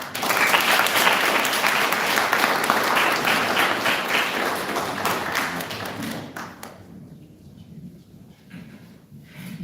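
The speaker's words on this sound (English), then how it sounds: "Give it up another round of applause for them." A conference audience bursts into dense, loud applause that holds steady for several seconds, then thins out and fades toward scattered claps near the end.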